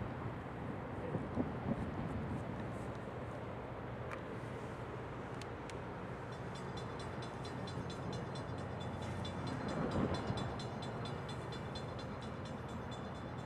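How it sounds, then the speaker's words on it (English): An Amtrak passenger train passes through Bourbonnais, Illinois, a continuous rolling rumble of rail cars that swells toward the end, with a distant horn sounding briefly. "pretty sure it's an Amtrak train."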